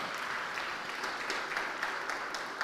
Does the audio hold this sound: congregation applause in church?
yes